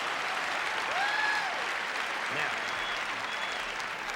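Live audience at a George Carlin comedy show breaking into steady, full applause that continues evenly throughout, with faint whoops rising above the clapping.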